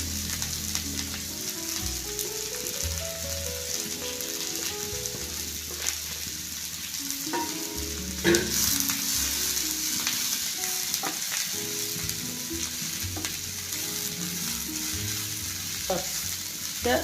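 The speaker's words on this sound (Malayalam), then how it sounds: "ഇത് നന്നായിട്ടൊന്ന് ഇളക്കി യോജിപ്പിക്കുക" Shredded cabbage for a Kerala thoran sizzles and fries steadily in a pan, with the scrape and clatter of a spoon stirring it in irregular bursts throughout.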